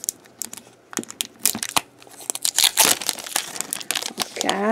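A crinkly plastic blind-bag package for a small collectible toy is torn open up close, with irregular bursts of crackling, crinkling and tearing that grow busier toward the end.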